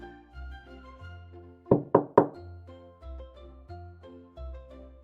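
Knocks on the door of a hut in an animated fairy tale: three sharp, loud raps in quick succession over soft, low background music.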